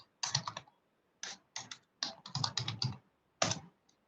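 Typing on a computer keyboard, with quick close bursts of key clicks separated by short pauses, loud and clear with no talk over it.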